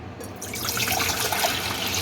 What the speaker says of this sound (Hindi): उसके अंदर पानी डालें